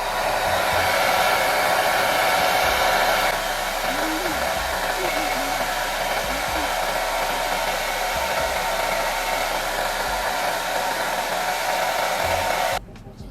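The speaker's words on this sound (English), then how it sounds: "take your blow dryer on low." A blow dryer on its low setting drones steadily while natural hair is dried into a sleek bun, a close continuous whir with faint handling noise that dips slightly in level partway through and stops abruptly at the end.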